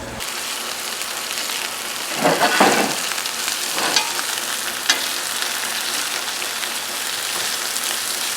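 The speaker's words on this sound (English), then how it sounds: "I got a big cast iron pan here, a little extra virgin olive oil. And I'm just going to start throwing sausages in around." Sausages fry in extra virgin olive oil in a big cast iron pan, a loud, steady, crackling sizzle with brief swells as they are moved around, no voices.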